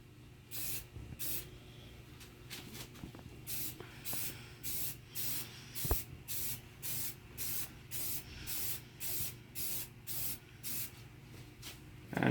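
Aerosol paint is sprayed onto car center caps in a regular series of short bursts, about a dozen crisp, close hissing puffs separated by brief silences.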